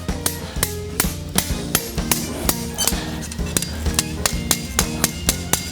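A blacksmith hammers forged steel on an anvil, a steady run of sharp ringing metallic strikes at a regular, quick rhythm, loud and close, with no voices.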